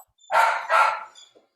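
Two quick loud barks from a dog close by, back to back, followed by a faint short yip, with no talk.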